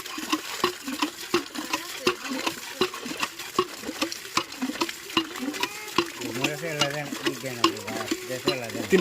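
Water gushing from a newly sunk tube well, a steady splashing rush broken by regular sharp knocks and clanks, with a voice briefly audible toward the end.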